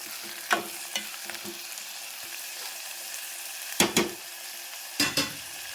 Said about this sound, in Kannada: ಟೊಮೆಟೊ ಹಣ್ಣು ಶುಂಠಿ ಒಳ್ಳೆ ಪೇಸ್ಟು ಕೊರಗಿನ ಸೊಪ್ಪು ಎಲ್ಲ ಫ್ರೈ ಆಗಬೇಕು